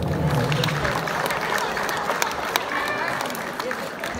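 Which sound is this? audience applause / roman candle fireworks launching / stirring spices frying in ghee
audience applause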